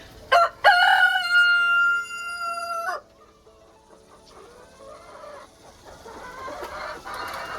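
A loud, close rooster crow rings out in one long call, followed by quieter clucking and faint background noise, on an urban farm in Nairobi, Kenya.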